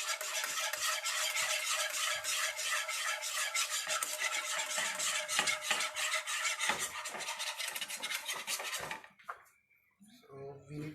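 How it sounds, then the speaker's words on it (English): Butter being stirred in a pan gives a busy run of close scraping and rubbing strokes, steady for several seconds before dropping off to quieter, sparser sounds near the end. "So we need to keep stirring the butter so that it won't stick to your pan"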